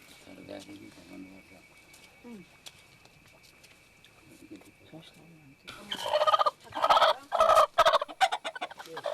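A chicken squawks and clucks loudly in agitated bursts near the end as it is caught in a remote Nepali village, after quieter stretches of talking and background sounds.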